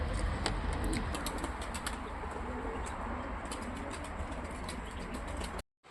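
Domestic pigeons released from a garden loft, with a steady wash of close wing flapping and fluttering, some soft cooing, and sharp wing claps scattered throughout before a sudden cutoff near the end.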